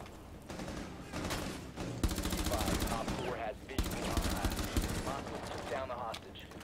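Rapid automatic gunfire in Rainbow Six Siege, dense bursts of loud, close shots running through several seconds, with someone talking over the firing.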